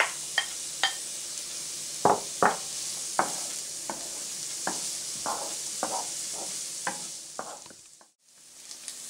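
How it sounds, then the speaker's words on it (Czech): Chopped onion sizzles in melted butter in a pan as risotto cooking begins, with a steady frying hiss and repeated sharp clicks and scrapes from stirring, and no voices. "V kastrole nebo ve velké pánvi rozehřejeme máslo a necháme na něm zesklovatět nakrájenou"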